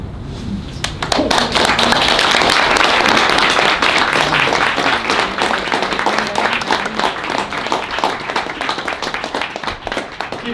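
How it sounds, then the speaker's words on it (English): Audience applause following a poetry reading in a small reading series, steady dense clapping that starts abruptly after a second of quiet and continues for about ten seconds, loud and close with no talk over it. "Saved up all your claps for the end."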